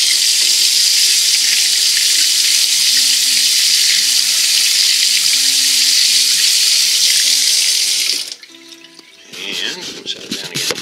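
A silver coin is rinsed under a running tap, a loud, steady hiss of water for about eight seconds before it cuts off, followed by quieter handling sounds.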